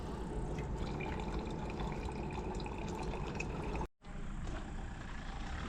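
Water running into a bottle from a tap at a mountain refuge, a steady close splashing gurgle that cuts out for a moment near the end before resuming.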